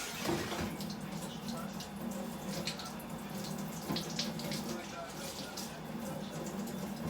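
Cold tap water runs steadily into a sink while hands are washed with soap, a continuous close splashing hiss with a few brief drips and clatters, and someone talking over it.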